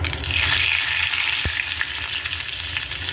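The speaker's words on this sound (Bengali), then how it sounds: "এবার তেলের মধ্যে আমি একটু জিরে, একটা তেজপাতা" Cumin seeds and a bay leaf sizzle in hot oil for a tempering, a loud continuous crackling fry with a brief knock of a utensil partway through.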